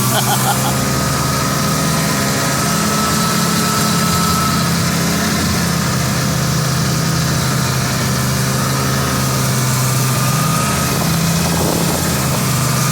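A snowmobile engine drones loudly and steadily up close while riding across an open field on private land, a constant roar mixed with wind noise.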